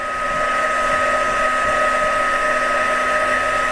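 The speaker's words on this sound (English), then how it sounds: "And then I'll do the same thing with my heat tool. And I'll just heat that up" A heat gun blows hot air over a handmade card, producing a close, steady whirring hum with a high motor whine that holds constant from start to finish.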